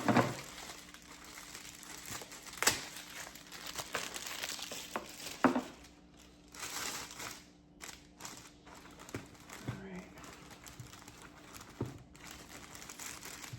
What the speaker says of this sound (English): We're gonna fluff out this bow